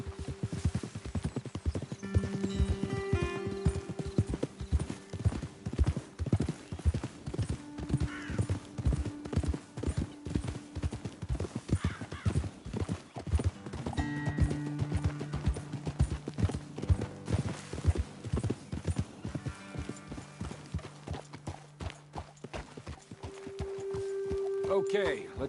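Horses' hooves clip-clop steadily on a path while riders travel in a PS4 game, a continuous rhythmic trot under frequent spoken dialogue and soft music tones, with an occasional whinny.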